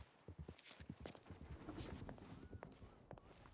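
Horse hooves clip-clop in a ranch roleplay video game, a quick run of fairly quiet, regular clopping steps heard over a faint background.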